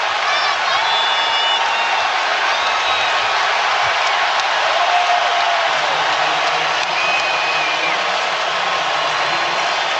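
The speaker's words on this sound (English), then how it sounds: "Boy, it got the crowd fired up regardless that the whistle blew." Basketball arena crowd roaring and cheering after a blocked shot during a Raptors playoff game against LeBron James's team, a dense steady wall of crowd noise sustained throughout, loud and continuous with no pauses.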